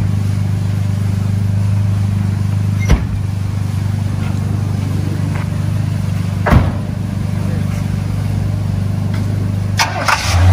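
A 1956 Cadillac Fleetwood 60 Special's engine runs with a loud, steady low rumble, close to the listener, with a few brief clicks and knocks over the idle and no talking.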